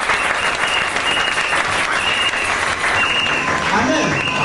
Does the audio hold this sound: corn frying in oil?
no